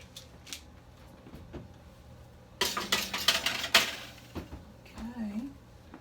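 Oatmeal raisin cookies on baking trays being slid into a home oven, a burst of clattering metal and rattling lasting about a second and a half after quieter handling noises, with a brief voice near the end.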